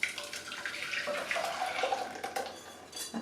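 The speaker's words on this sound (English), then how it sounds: "so pour this back into the saucepan." Creme anglaise custard mixture is poured back into a saucepan, making a close, soft liquid splashing and trickling sound for a few seconds with faint clinks and no voices.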